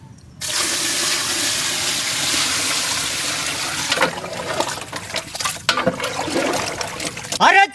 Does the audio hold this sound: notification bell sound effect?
no